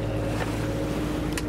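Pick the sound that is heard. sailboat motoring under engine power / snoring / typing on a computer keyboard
sailboat motoring under engine power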